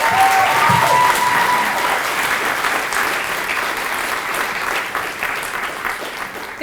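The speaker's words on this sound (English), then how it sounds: "I feel like we need to give them one more round of applause" Audience applause at the Corrington Award 2024 event, a full, sustained round from a crowd that starts strong and eases slightly, steady and unbroken to the end.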